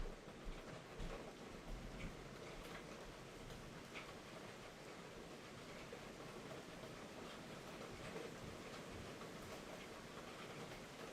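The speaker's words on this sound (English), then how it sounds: "That's the beautiful sound of rain." Steady rain falls continuously, a soft, even hiss with no voices, fairly quiet and unbroken throughout.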